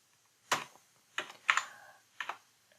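A computer keyboard gives four spaced, crisp key presses, close and fairly quiet, with near silence between them.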